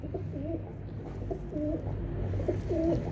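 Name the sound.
pigeon cooing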